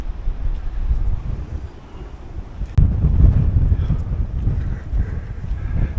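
Strong December wind buffeting the microphone on the Suffolk coast at Bawdsey, a continuous loud roar with a sharp thump near the middle and surging gusts after it, mixed with the wash of the sea.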